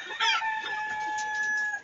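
A rooster crows once, close and loud, a strained held call with a rising start and a long steady tone before it trails off. No talking is heard over it.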